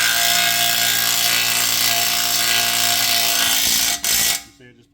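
Power tool whine of an impact wrench tightening bolts on a 2019-2025 Chevy Blazer during lowering work, a loud steady sustained run that cuts off briefly near the end, then stops.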